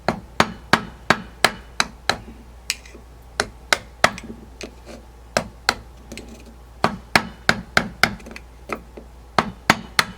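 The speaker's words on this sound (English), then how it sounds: "you can take something and tap this little ring back in there with the seal" A small seal ring being tapped into place on a brake part from a 1978 MGB, heard as a long irregular series of sharp, close metallic taps, some in quick clusters, others spaced apart.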